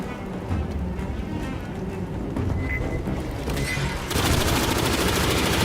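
Video game weapons fired from the hip keep up continuous, dense gunfire that swells louder and heavier in the final seconds.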